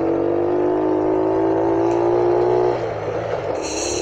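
A small 50cc motorbike engine hums steadily and loudly, then its tone drops and shifts as the rider changes gear, recorded close while riding through favela streets.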